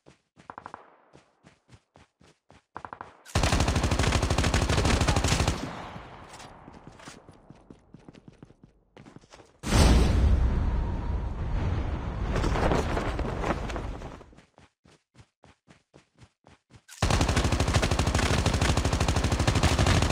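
Automatic gunfire from the Call of Duty Mobile battle royale game comes in three long sustained bursts, with rapid single shots and clicks between them, loud and close, with no talk.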